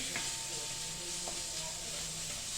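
Ginger-garlic paste sautéing in a pan over medium heat, a steady close sizzle and hiss with a couple of faint spoon scrapes, no voices.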